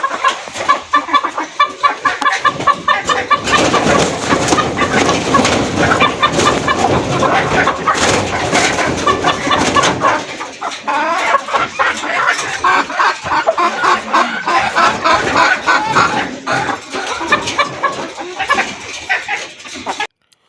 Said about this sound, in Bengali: মুরগি কক কক করে ডাকাডাকি করবে